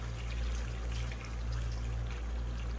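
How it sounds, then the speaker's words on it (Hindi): Water poured into a pan of mutton karahi cooking with spices, a steady, soft trickling stream that runs continuously without pause. "अब 2 खाने के चमचे पानी डालकर हम कवर कर देंगे"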